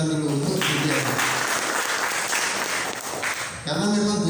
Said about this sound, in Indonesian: Tepuk tangan dulu untuk DPM.